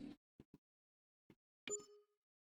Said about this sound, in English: I just got some kind of notification.